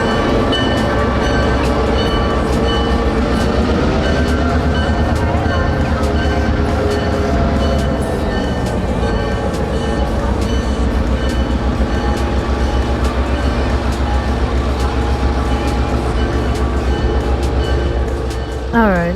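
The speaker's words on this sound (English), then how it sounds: "I think the train is on its way back." A train rumbles past a small mountain-town station in Blue Ridge, a loud steady roar with rail clatter that continues unbroken for nearly twenty seconds and ends in a brief metallic squeal.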